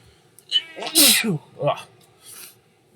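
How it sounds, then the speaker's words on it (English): A single loud, close sneeze with a sharp hissing burst, surrounded by brief vocal sounds. "I'm going to sneeze, and I can't edit this out."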